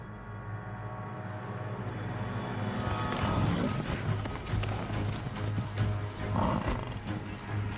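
Lions roar and growl while fighting a bull in the wild, with heavy thudding hooves and scuffling, rising in intensity midway, at moderate distance, with no talking.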